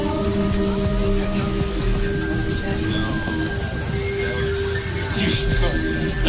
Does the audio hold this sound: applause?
no